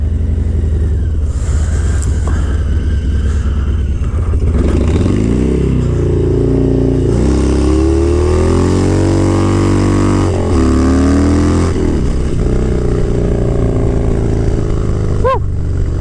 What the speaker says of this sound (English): now you can do whatever you want, you know, rolling burnouts